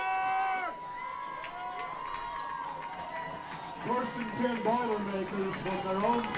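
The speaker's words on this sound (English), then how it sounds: "The crowd comes alive, trying to pump up their defense." Football stadium crowd at a high school playoff game roaring and cheering to pump up the home defense, with loud whistles and shouts rising toward the end under a commentator's voice.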